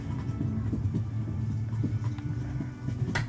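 Horse hooves clip-clop at a steady walking pace in Kingdom Come: Deliverance, fairly quiet under a constant low background hum, with no speech.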